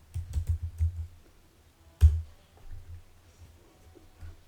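A few quick keystrokes on a computer keyboard in a command prompt, a short cluster of clicks, a pause, then another sharp tap and a couple of softer ones, close and quiet, with no voices.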